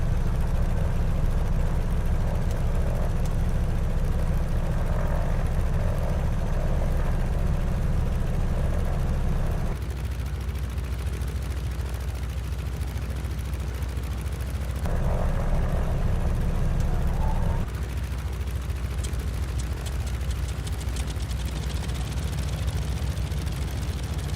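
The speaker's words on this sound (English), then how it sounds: "Got our engines fired up." In Microsoft Flight Simulator, the second engine of a Beechcraft Model 18 catches and joins the first in a loud, continuous propeller drone, with two shifts in pitch and level as it spools up.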